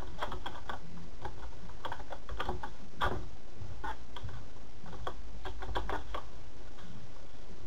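Rapid, close clicking of computer keyboard keys as a nickname is typed into a game login, irregular bursts of keystrokes with one heavier tap midway, steady and alone without talk.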